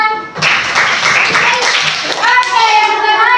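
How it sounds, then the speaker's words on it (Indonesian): Classroom applause from a group of children, a burst of clapping mixed with young voices chattering and calling out over it. "Tepuk tangan."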